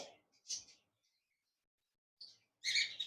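A few short, high chirps from a pair of caged pet budgerigar-type birds come in brief bursts separated by silence, the last burst busier and louder.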